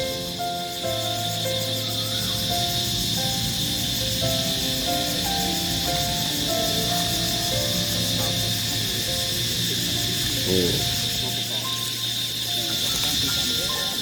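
Cicadas sing in a forest garden in the evening, a steady shrill drone that holds unbroken from start to finish, with soft low sounds beneath it.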